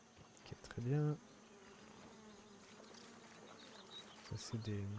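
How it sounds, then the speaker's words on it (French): Gnats in the Grounded video game buzz with a thin, steady, faint drone, and brief louder voice-like bursts come in near the start and end. "C'est des moucherons."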